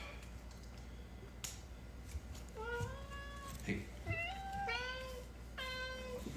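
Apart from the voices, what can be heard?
cat meowing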